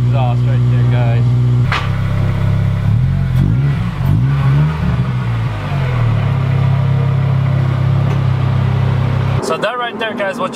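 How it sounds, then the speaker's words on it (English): A Honda RSX Type S with a Spoon single exhaust revs up and drops back several times, a loud, close, raspy engine note that settles into a steady drone before cutting off near the end. "what you heard is my spoon in one exhaust on my RSX Type S."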